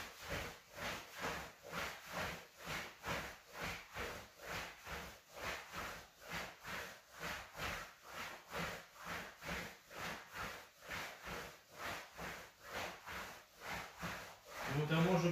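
Hands rub back and forth on a judo kimono in a quick, even rhythm, roughly two strokes a second, a close, soft swishing that continues steadily throughout during a beginner children's judo class.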